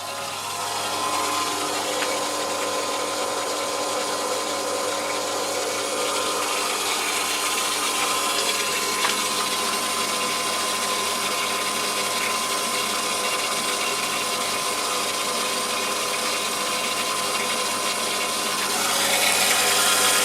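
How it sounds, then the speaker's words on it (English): A borehole water pump runs steadily while filling an attic tank, a continuous even hum with a low drone and faint rattling that holds constant at moderate level throughout, slightly louder near the end. "So currently the upstairs tank in the attic is filling, that's why the pump is running."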